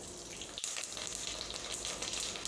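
Mustard seeds and urad dal spluttering in hot oil in a pan while cooking drumstick masala curry, a steady close crackling sizzle with a sharp pop near the start, no talking.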